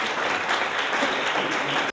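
An audience at a literary reading applauds, a dense, even wash of many hands clapping at moderate distance that holds steady and cuts off abruptly at the end.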